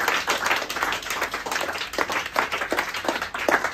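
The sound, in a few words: applause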